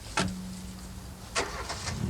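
A car engine cranks and catches with a sharp burst, settles into a brief low idle, then revs again in a second quick surge, heard close and alone without any talk.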